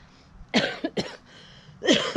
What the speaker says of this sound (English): Excuse me, coughing fit.